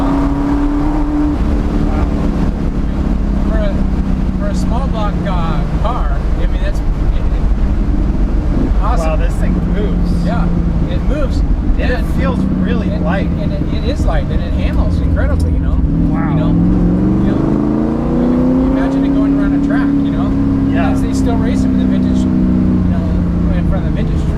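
A 1965 Ford Mustang GT350 with a small-block V8 idles and burbles with a steady low rumble while people talk over it, with wind noise throughout.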